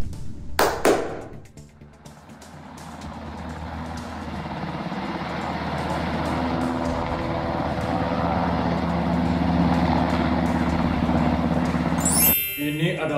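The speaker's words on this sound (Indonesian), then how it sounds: "Ini adalah helikopter terbaik dan tercanggih yang saya pesankan langsung dari Rusia, Tuan." A helicopter ordered from Russia runs steadily with a low rotor and engine drone that builds after a brief loud thump at the start, holds for about ten seconds, then cuts off abruptly.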